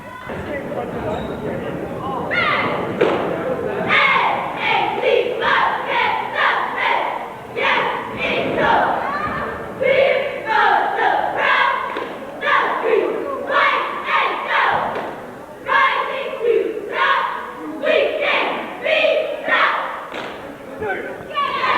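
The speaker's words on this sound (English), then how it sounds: "Varsity cheering squad on the floor." Varsity cheer squad performing on the floor at a high school boys basketball game at AuSable Valley High School, with rhythmic group chants and shouts in regular bursts, backed by thumps and gym crowd noise.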